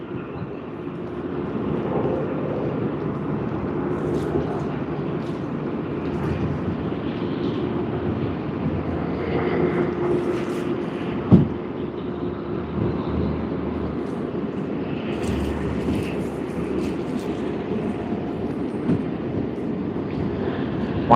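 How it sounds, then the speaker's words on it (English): A Malaysia Airlines Airbus A330-900 arrives at Sydney Airport in the early morning, its engine rumble steady and moderately distant, with some wind noise and one brief thump midway. "the Airbus A330-900 of Malaysia Airlines that's just come in from Kuala Lumpur"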